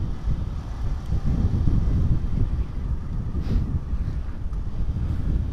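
An automatic scooter motorcycle with about 95,000 km on it rides along a road, heard as a heavy, continuous wind rumble buffeting the microphone, with the engine barely distinct underneath.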